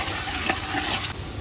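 Chopped tomatoes go into a pan of sizzling gravy with green garlic, green onion and chilies, giving a steady close hiss of frying with light stirring scrapes and no voices.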